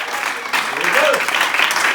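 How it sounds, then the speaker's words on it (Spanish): A church congregation claps during a Spanish-language sermon on water baptism, a dense burst of many hands that grows louder after a brief start, while a voice speaks over the clapping. "Dele palmas al Señor."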